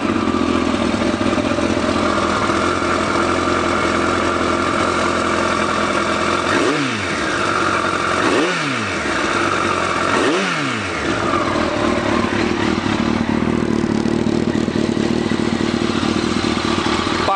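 A 2014 Kawasaki ZX14R Ninja ABS motorcycle engine running at a close, steady idle, with three quick throttle blips rising and falling midway before settling back to a smooth idle.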